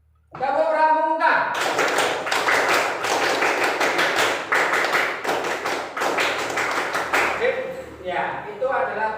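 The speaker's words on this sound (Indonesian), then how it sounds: "Tepuk pramuka." Group of people clapping in rhythm, the patterned tepuk pramuka scout clap at an in-class ice-breaking session, loud and close with sharp repeated strikes; a voice calls out briefly before the clapping begins.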